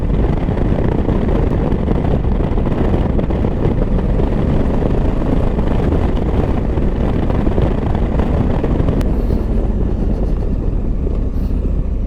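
A 2023 Honda Africa Twin Adventure Sports with DCT gearbox rides in sport mode, its engine drone loud and continuous under heavy wind rush, with no voices.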